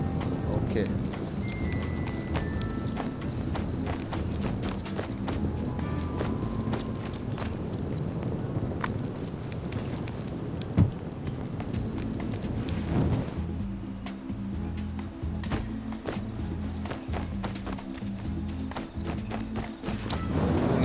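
Horse hooves running in the survival video game Rust, a continuous patter of clip-clop hoof strikes mixed with other game sounds, a single sharp knock near the middle, and talking over much of it.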